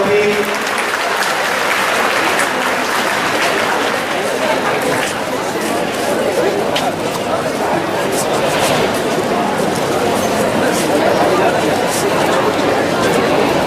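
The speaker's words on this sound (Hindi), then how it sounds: "सभी लोग सबको अपनी शुभकामनाएं प्रस्तुत करते हुए एक बार जोरदार तालियों से" Loud, dense applause from a school audience at a director's birthday celebration, continuous and steady throughout with some chatter mixed in.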